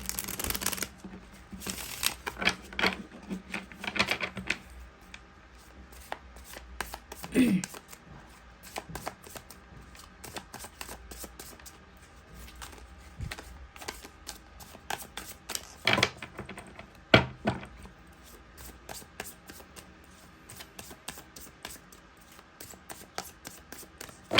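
A tarot card deck being shuffled in repeated bursts of riffling and rustling during a reading, fairly close, with pauses and someone talking between the shuffles.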